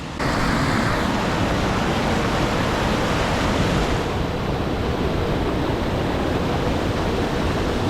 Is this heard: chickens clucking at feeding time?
no